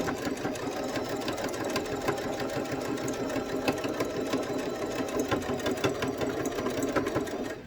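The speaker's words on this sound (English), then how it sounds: "if you're using a machine like I am, definitely backstitch at the start and finish" Sewing machine stitching a fabric face mask lining, a steady continuous mechanical whir with rapid needle rhythm running unbroken at moderate, close volume throughout.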